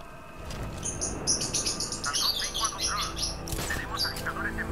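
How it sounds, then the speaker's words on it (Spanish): Birds chirp and squawk in a rapid, busy cluster of high tweets within the Batman Arkham Knight video game, layered over a low rumbling game ambience and a sharp sound burst near the end. "Esos pájaros, dile algo, Batman."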